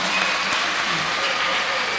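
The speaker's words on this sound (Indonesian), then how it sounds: "Tepuk tangan untuk Gereja Toraja." A church congregation of the Toraja Church claps together during a Maundy Thursday service, a brief, dense burst of steady applause filling the hall.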